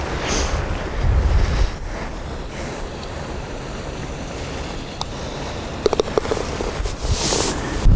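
Strong, gusty wind buffets the microphone on an open golf course, a steady roaring rumble with louder surges and a few brief knocks near the end.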